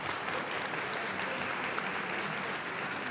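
An audience at a youth debate tournament final applauds in a steady, moderately quiet round of clapping that holds for a few seconds with no speech over it.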